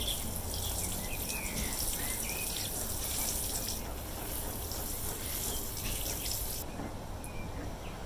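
Water mixed with fertilizer is poured into potted fig cuttings, giving a steady soft splashing and trickling stream that runs for several seconds before easing off near the end.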